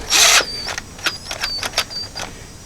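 Power drill with a 1/4 inch bit working through a broken exhaust manifold bolt on a 1995 Ford F250, a loud burst of whirring followed by short intermittent grinding spurts and clicks.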